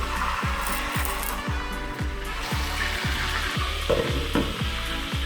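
Shawarma meat frying in a pan, a steady close sizzle with a regular rhythmic scraping or thumping repeating about every half second throughout.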